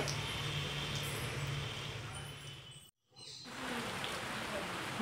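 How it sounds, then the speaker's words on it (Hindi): Steady evening rain falls as a dense, even hiss on the surface outside a home, cutting out for a moment near the middle before resuming at the same level. "कितनी अच्छी बारिश हो रही है।"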